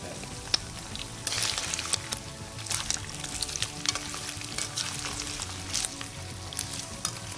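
Pieces frying in hot oil for an Indian aloo mattar paneer dish, a steady close sizzle and bubbling with occasional stirring clinks, no talking.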